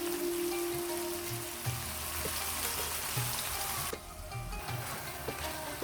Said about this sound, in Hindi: इसके हम मीडियम फ्लेम करके थोड़ा सा इसको पकने के लिए रखेंगे।